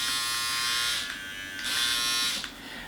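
A Manscape Lawn Mower 3.0 body trimmer runs close by with a steady high electric buzz that dips briefly twice, likely as it moves across skin, and no one talks.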